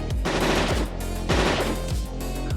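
A loud, close automatic gunfire burst, as from a sci-fi machine weapon fired at an alien creature in a corridor, with rapid repeated shots and a couple of heavier thumps.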